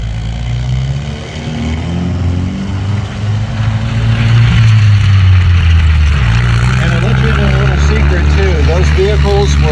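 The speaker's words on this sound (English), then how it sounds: "I just absolutely love seeing this thing run. It's incredible. Sounds bigger than it looks." A Polish TKS tankette's engine runs loud and close, a steady low drone that swells and revs, with people talking over it.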